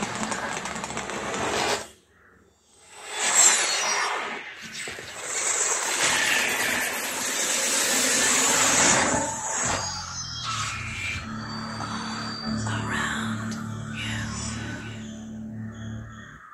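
A Dolby Atmos sound demo plays from an Oppo Reno 6 Pro 5G phone speaker, a dense, continuous stream of synthetic effects with a brief drop to near silence early on, then a busier, buzzing texture.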